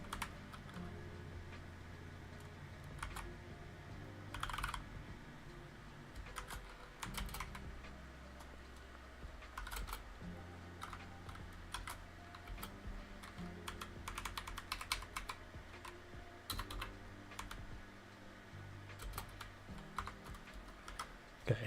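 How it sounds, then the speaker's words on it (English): Someone types code steadily on a computer keyboard, with rapid key clatter broken by short pauses and occasional louder keystrokes, over a low background hum. "one of these days I'll finish typing that out"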